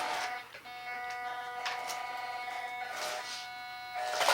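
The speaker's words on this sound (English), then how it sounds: "So it's got one of those funny sounding ESCs" An electronic speed controller on a small 1/18-scale RC crawler truck gives off a thin, steady, buzzing whine with faint ticking, close and quiet on an indoor basement course.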